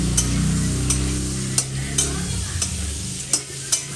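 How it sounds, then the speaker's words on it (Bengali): Prawns for potol chingri fry in oil while being stirred in a pan, a close hiss broken by sharp, regular scrapes and clinks of the spatula, with no talk. "চিংড়ি অ্যাকচুয়ালি বেশি ভাজতে লাগে না, জাস্ট একটু নাড়িয়ে নিলেই হবে"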